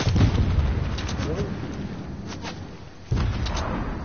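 Airstrike explosions in a video game battle, a heavy boom at the start fading into rumbling debris, then another sharp blast near the end, with faint voices in the background.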